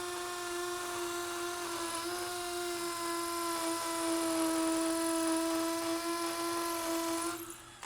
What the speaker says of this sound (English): if I follow that line down and I drill the same hole right there